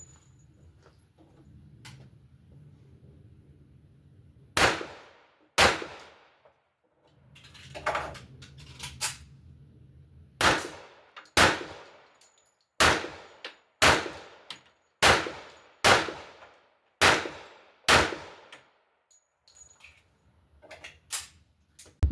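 Loud, sharp pistol shots from a 1911 ring out at a range, a dozen or so evenly spaced reports with short echoing tails, plus faint handling clatter and low rumble between.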